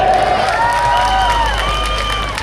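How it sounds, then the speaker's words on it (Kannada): A crowd at an evening Kannada Rajyotsava celebration in Kolar cheers and applauds loudly and steadily, with whistles and shouts rising above the roar for the whole stretch. "ಚಪ್ಪಾಳೆ"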